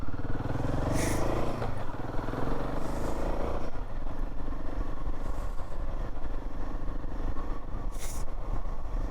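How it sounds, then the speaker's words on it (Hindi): A motorbike runs steadily along a snowy mountain road near Kalpa in Himachal, its engine droning close and continuous over road and wind noise, with no talking. "भाई यहाँ थोड़ा आराम से चलानी पड़ेगी बाइक।"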